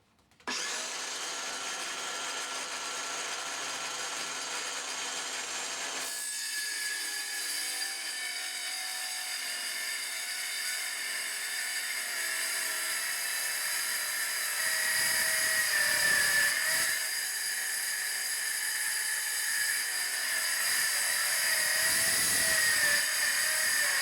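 Perspex sheet being cut for a tabletop by a high-pitched power cutting tool, running steadily and loudly for the whole stretch with a slight rise in pitch and intensity partway through, with no talking.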